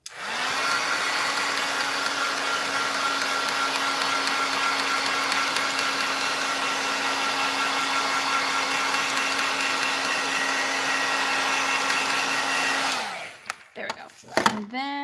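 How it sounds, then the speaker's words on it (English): A handheld heat tool blows hot air over a freshly stamped Valentine's card, a loud, steady whirring hum held for about thirteen seconds before it cuts off and a few soft desk knocks follow. "Let me just hit this with my heat tool"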